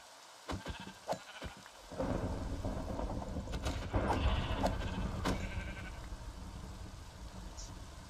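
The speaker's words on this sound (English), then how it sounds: "Oh, there's sheep." Sheep bleat in a video game against a backdrop of rumbling thunder and steady rain, with a few sharp cracks early on before the storm noise fills in and stays loud.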